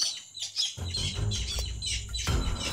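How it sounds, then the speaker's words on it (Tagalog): Harsh bird squawks and chirps repeat close by in short bursts, over a rustling background. "Ay, ibon yan."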